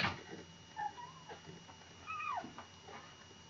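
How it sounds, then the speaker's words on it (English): A pet cat makes a few short, close meows and whimpering calls indoors, separated by quiet pauses, with faint room noise and no talking. "Say hi to my kitty."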